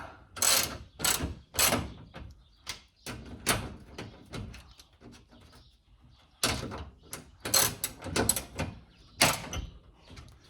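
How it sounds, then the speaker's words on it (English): A socket wrench ratchets as it tightens a bolt on a garage door roller that came off its track, producing close clicking bursts in two groups with a pause between. "Now we socket tighten."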